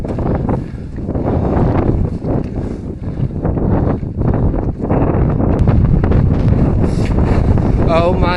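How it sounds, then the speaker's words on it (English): Strong gusts blast across the microphone on Y Garn, a Welsh mountain, in very wet and windy weather, a loud continuous roar with rumbling buffets, and people talk through it. "so windy."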